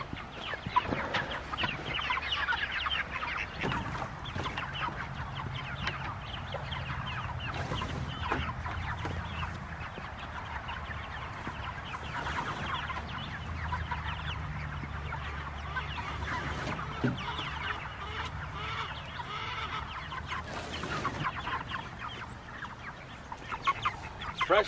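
Meat chickens, grown large and close to butchering age, cluck steadily in a coop or pen, a dense flock chatter with occasional louder calls, no talking.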